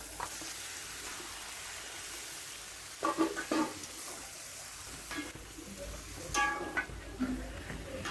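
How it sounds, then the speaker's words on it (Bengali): Chicken pieces cooking in ghee with chili powder and spices, a soft steady sizzle with occasional stirring clatters, close and quiet, with no talking. "এই মশলার ভেতরে চিকেনগুলো 5-6 মিনিট কষিয়ে নেব।"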